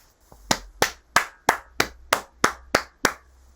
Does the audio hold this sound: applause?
yes